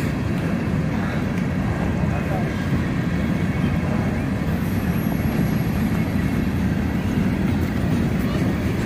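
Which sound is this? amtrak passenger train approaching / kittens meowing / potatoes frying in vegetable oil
amtrak passenger train approaching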